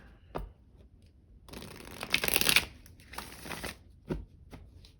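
Tarot cards are riffled and shuffled up close in a couple of dense flurries about a second long, with soft taps and clicks of the deck before and after, and no talking.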